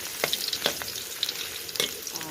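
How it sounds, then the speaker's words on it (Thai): Garlic frying in hot oil in a wok, a bright crackling sizzle punctuated by several sharp scrapes and clatters of a spatula stirring, close up and with no voices. "ผัดกระเทียมให้เหลืองก่อนค่ะ คั่วคั่วผัดกระเทียม"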